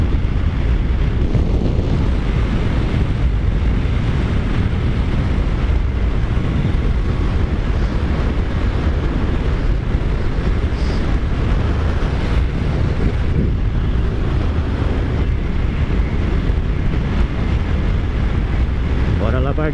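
Wind buffets a microphone while riding on a road, a loud, continuous roar that never lets up for the whole stretch, with a faint voice in places.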